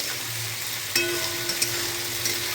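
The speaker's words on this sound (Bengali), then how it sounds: "এই যে আদার আদারটা একটু ছিটকে ছিটকে আসতে তেলে দেওয়ার পর" Ginger paste hits hot oil for a fish and cauliflower-potato curry, giving a close, even sizzle with a sharp spatter pop near the start and a few smaller crackles after.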